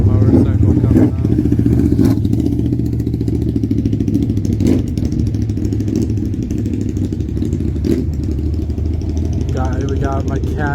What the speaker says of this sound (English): We got a motorcycle coming up.